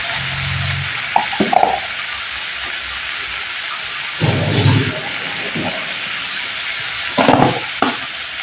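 Spices fry in a pan for a broccoli vegetable dish while salt is stirred in, giving a steady close sizzling hiss with a few louder bursts of spattering along the way.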